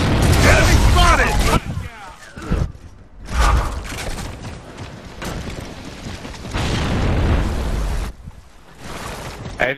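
Frag grenade blasts and chaotic combat noise in Gears of War: Judgment on the Gondola map in a competitive Domination match, loud booming bursts and mechanical clatter in rapid succession, with players talking over the action.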